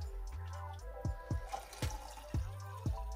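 Coffee poured from a stovetop pot into a second cup inside a camper van, a close liquid trickle with soft drips and clinks at a steady rhythm, and no talk over it.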